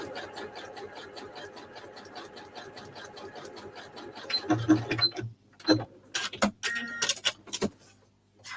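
A sewing machine zigzag-stitching fabric scrap strips together, a rapid steady whirr for several seconds, then stopping and giving way to handling clicks and rustles of the fabric, close by.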